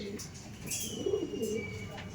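Chennai breed pigeons coo softly at close range, a few low rolling calls under faint background noise.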